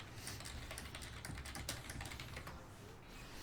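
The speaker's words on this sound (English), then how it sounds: "I'm typing this" Rapid keystrokes on a computer keyboard during an online FFXI gaming session, a steady flurry of close, dry clicks with no speech.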